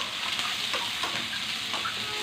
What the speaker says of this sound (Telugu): ఉల్లిపాయలండి ఈ కడ వేపుకున్నాం.